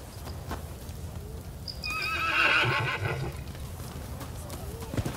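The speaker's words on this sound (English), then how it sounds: "Use a horse flute to call a horse here," A horse in the video game Rise of the Ronin gives a loud, shrill whinny midway through, with hoofbeats clip-clopping around it and a voice speaking briefly.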